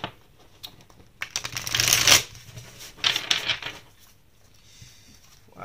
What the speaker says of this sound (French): Je vais taper un peu mes cartes